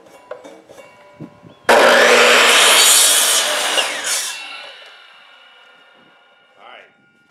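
Wooden boards being cut with a power saw for a ferrocement house project: a sudden loud burst of sawing that holds for a few seconds, then fades as the blade winds down, with faint knocks before.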